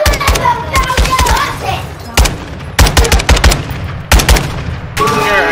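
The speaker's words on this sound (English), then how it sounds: "I keep shooting" Rapid bursts of video game gunfire, loud and close, firing in repeated volleys with short gaps between them and some voices in the background.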